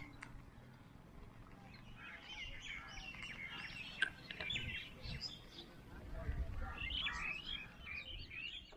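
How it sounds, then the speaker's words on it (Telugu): Birds chirp and call in scattered bursts on a cold morning in Araku Valley, a fairly faint, busy chorus over low rumbling background noise with no speech. "అండ్ ఈ బర్డ్స్ సౌండ్ చూసారు ఒకసారి"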